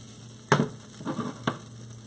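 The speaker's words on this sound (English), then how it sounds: "I'm gonna toss this one more time." Veggie quinoa hash is tossed in a hot pan, giving a few brief scrapes and soft clatters against a faint, low sizzle and hum, with no one talking.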